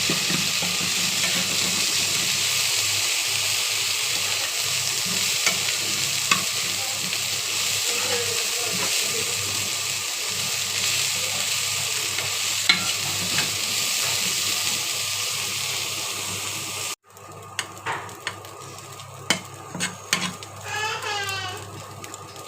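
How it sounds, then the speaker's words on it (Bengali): Washed dried shrimp fry in oil with a steady, loud sizzling hiss that runs continuously, with occasional stirring scrapes and a sudden drop in the sizzle near the end. "সেই জন্য আমি ধুয়ে তারপর ভেজে নিচ্ছি তেলে"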